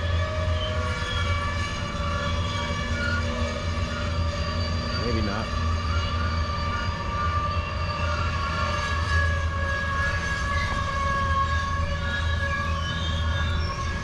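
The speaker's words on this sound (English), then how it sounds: "fully loaded train" A heavy, fully loaded freight train rumbles past through Cajon Pass continuously with a steady low roar and squealing metallic tones; a voice briefly speaks partway through.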